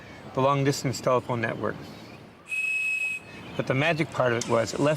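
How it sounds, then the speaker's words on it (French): A steady, high-pitched whistle tone, used to unlock the long-distance telephone network, held for under a second between stretches of a person talking. "On pouvait boucher l'un des trous de ce sifflet et quand on soufflait, on obtenait une tonalité précise"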